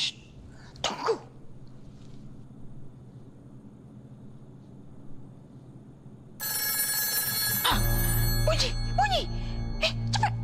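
A telephone rings in a tense spooky scene, starting partway through as a loud repeating electronic ring layered with a low hum, after a stretch of quiet with brief vocal noises near the start.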